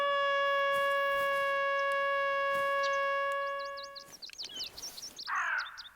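A loud, steady air horn blares from an app inside the hunting game theHunter: Call of the Wild, holding one sustained tone for about four seconds before cutting off, after which birds chirp and caw faintly in the background.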